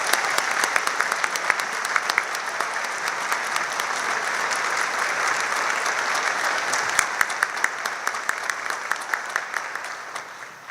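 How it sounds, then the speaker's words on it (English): Sustained applause from a concert band audience honoring scholarship students, a dense, even roar of many hands clapping that holds steady for about ten seconds before tapering slightly at the end. "how about a nice round of applause for these students?"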